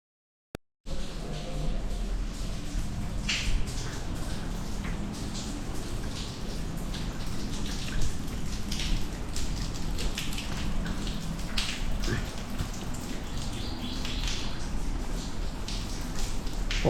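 Rain falls steadily into an open inner courtyard of a house, a continuous close patter with scattered drip-like ticks over a low wash; it keeps up evenly after a short pause at the start, with no voices.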